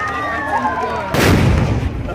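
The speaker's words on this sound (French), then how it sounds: "Car just exploded and has wounded a lot of people." A car bomb blast during the Mount Cameroon race in Buea: a sudden loud, broad crack-and-roar cuts in midway after a tonal whine, then rumbles on heavily to the end.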